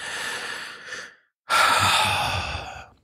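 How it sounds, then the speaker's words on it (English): Two slow, deep breaths are taken close to the microphone, a long inhale followed after a short silence by a fuller, audible exhale like a sigh. "take a nice big deep breath"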